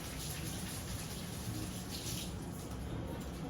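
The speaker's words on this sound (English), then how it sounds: "wash your hands" Tap water runs steadily from a kitchen faucet during handwashing, a close, even broadband rush that continues throughout without pause.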